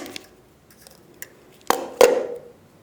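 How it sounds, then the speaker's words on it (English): Wire ends are snipped off a wire-wrapped cabochon pendant with an accent stone. Two sharp, close metallic snips come in quick succession, after a few faint small clicks of handling. "So then I'm just gonna cut the little ends here."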